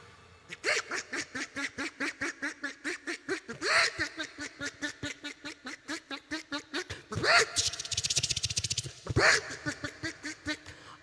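A voice imitates ducks with a long, steady run of rapid quacking calls, close and loud, broken by a few louder bursts.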